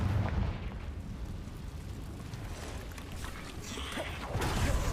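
A Confringo fire spell blasts in a Hogwarts Legacy battle, a dense rumbling explosion with heavy low boom that swells at the start and again near the end, with no voices.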